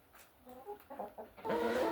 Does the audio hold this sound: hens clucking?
yes